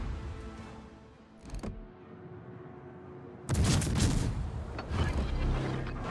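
Naval gunfire from a warship in World of Warships, Bayard French cruiser ranked battle near ice islands: a sharp burst around midway, then a loud heavy volley rumbling for several seconds, with another swell near the end.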